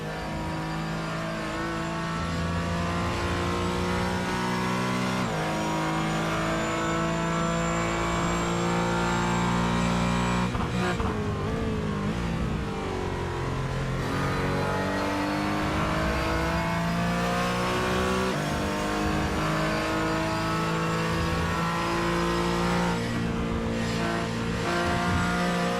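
A number 23 Porsche Cayman GT4 race car on track in iRacing, its engine revving up through the gears with sharp shifts and a swelling, sweeping pitch as it passes, loud and continuous with no talk.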